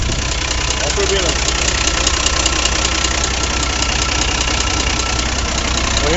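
A turbocharged car engine runs steadily and loudly at idle, a continuous dense rumble with no clear revving throughout.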